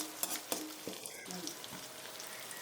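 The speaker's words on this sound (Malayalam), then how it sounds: "കുറച്ച് കറിവേപ്പില ഇട്ട് കൊടുക്കുക" Shallots, green chilies and curry leaves fry in oil for a Kerala-style garlic pickle, with quick crackling pops at first that settle into a steady close sizzle, plus light clinks of a stirring spoon.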